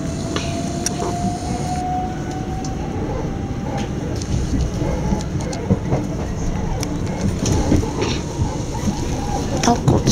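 Rumble and rattle of a passenger train running toward London Victoria, a steady loud interior roar with clacks and rising tones, continuous throughout with no clear speech.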